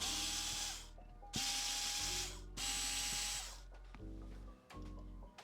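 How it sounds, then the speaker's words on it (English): Electric screwdriver running in repeated bursts, whirring and ratcheting while it backs screws out of a JBL Tuner 2 speaker grill. The bursts are loud and close, with brief pauses between them and no talking. "So we'll get our electric screwdriver and just pop him in the top."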